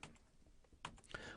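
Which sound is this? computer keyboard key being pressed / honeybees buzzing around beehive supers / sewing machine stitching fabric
computer keyboard key being pressed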